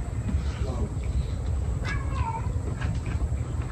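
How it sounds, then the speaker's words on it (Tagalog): Cats meow a few times, brief rising cries over a steady low rumble and background chatter from people talking nearby. "Doon naman yung mga pusa niya."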